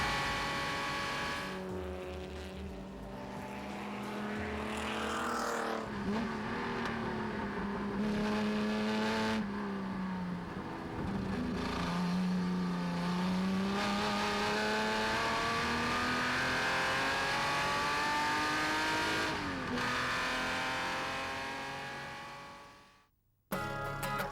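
Onboard a winning race car at the 2006 Le Mans Classic, the engine howls close and loud, climbing through the revs with several sharp gear changes over about twenty seconds, then cutting out abruptly at the end, with no talking.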